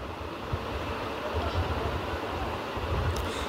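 Bay leaf and panch phoron sizzle in hot oil in a kadhai, giving a steady, even hiss that holds throughout with faint low bumps underneath.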